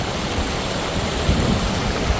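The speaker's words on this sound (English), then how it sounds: "there's a waterfall here at the Waterfall campsite" Waterfall at a campsite near Vanrhynsdorp, heard as a dense, steady rushing roar of falling water, close and fairly loud, with no talking over it.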